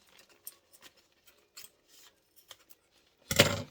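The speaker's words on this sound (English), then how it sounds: "I'm going to cut this about halfway across the top here" Scissors snip through a bag of powdered sugar in a series of small, sharp, close clicks and cuts, ending in a louder rustling crunch of the bag.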